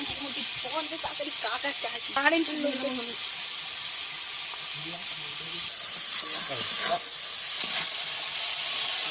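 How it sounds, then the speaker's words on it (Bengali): Prawns fry in hot oil in a village-style kitchen with a constant loud hiss and sizzle throughout, while a person talks intermittently over the crackling. "চিংড়ি মাছ আমি এইভাবে ভেজে নিয়েছি, তুলে নেবো"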